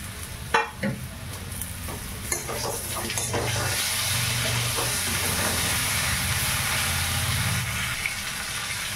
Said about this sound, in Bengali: টমেটোগুলো দিয়ে দিচ্ছি।